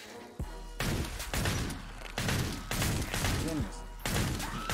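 Gunfire in Killing Floor 2 endless mode, a series of heavy, booming shot bursts separated by short gaps, loud and close, with faint voice lines mixed in among the blasts.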